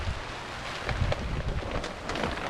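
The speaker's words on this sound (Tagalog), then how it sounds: "lakas ang ulan" Heavy rain pours down in a dense, continuous hiss and patter, with uneven gusts and rumbles under it.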